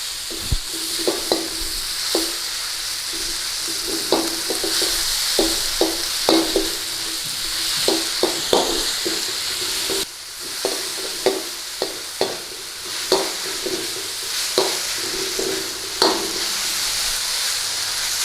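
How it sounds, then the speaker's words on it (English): Beef and banana peppers stir-fried in a hot pan make a loud continuous sizzle, broken by repeated scraping and clattering strokes of a utensil throughout. "So get our beef in there. And start to give this a stir fry."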